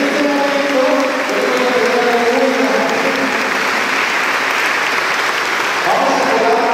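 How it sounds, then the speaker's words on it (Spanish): Church congregation at a charismatic Catholic healing service applauds for Christ, a thick, sustained wash of many hands clapping at full strength with no pauses, voices faintly woven underneath. "Un aplauso para Cristo Jesús"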